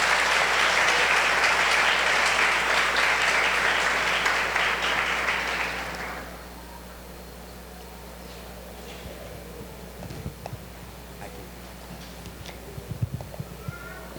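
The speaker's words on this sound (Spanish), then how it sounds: "Un aplauso para José Alejandro." An audience claps for a member receiving his membership card at a 65th anniversary celebration. The applause is moderately loud, fades out after about six seconds, and leaves quiet room tone with a few scattered knocks.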